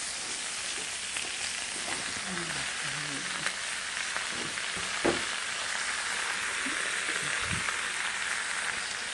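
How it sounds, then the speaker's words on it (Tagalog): Shrimp sautéing in a pan with tomato, giving a steady close sizzle that runs through the whole stretch, with occasional soft stirring knocks and no talking. "Ayan, igisa muna natin yung ating hipon guys."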